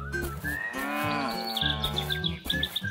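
Cattle mooing in a farm setting, several loud drawn-out lowing calls that overlap one another, with a high chirping tone running underneath them.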